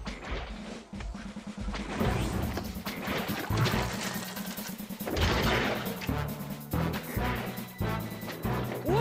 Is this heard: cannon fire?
yes